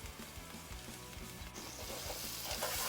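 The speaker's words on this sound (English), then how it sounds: "we're just going to fry this up until the onions are nice and tender" Bacon and onions fry in a pan seasoned with smoked and regular paprika, a continuous close sizzle with occasional stirring clatter, rising slightly louder toward the end, no one speaking.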